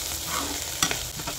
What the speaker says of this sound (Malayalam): അപ്പോൾ നമ്മുടെ പാവയ്ക്ക ഇങ്ങനെ ഫ്രൈ ആയിക്കൊണ്ടിരിക്കുകയാണ് കേട്ടോ.